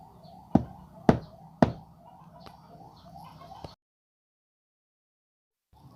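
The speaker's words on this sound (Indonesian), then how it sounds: "Tiga ketukan terdengar dari arah pintu" Three sharp knocks on a door ring out in an even rhythm, close and distinct over a faint background hum that then falls silent.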